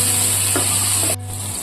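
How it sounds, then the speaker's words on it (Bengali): Bitter gourd with turmeric frying in a pan: a loud, close, continuous sizzle with a low hum beneath it and a couple of soft stirring scrapes. "উচ্ছেটাকে ভালো করে ভেজে নিচ্ছি।"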